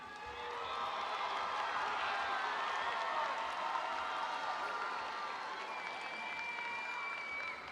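Graduates at a university spring commencement ceremony stand and applaud their supporters, with a broad, sustained wash of clapping from a large crowd in a big hall that swells and then slowly eases off.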